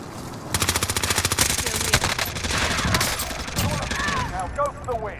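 Sustained rapid automatic gunfire in Call of Duty: Modern Warfare, loud and close, rattles in a dense burst before giving way to voices and squeaky sounds near the end.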